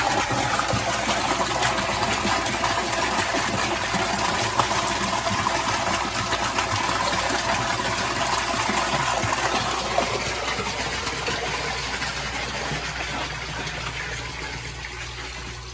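A pond skimmer circuit pumps water in a steady, loud rush, with a low motor hum beneath it. The sound is continuous and close, with no voices, and fades slightly toward the end.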